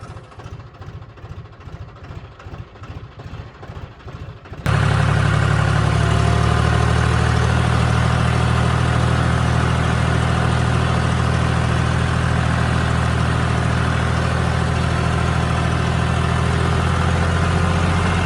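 An International tractor engine idles, a quieter pulsing chug at first, then a loud, steady, close low rumble that holds without a break.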